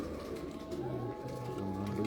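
Parwazi pigeons kept on a rooftop coop give soft, low cooing phrases that repeat in short steady bursts over a constant background hum.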